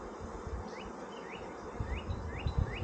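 Honey bees at a homestead hive hum in a steady, close drone while building comb, with a few rising chirp-like tones over the buzz and some low handling bumps toward the end.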